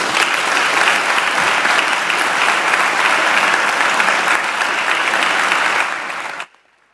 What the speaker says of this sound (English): I think Tim deserves another great round of applause.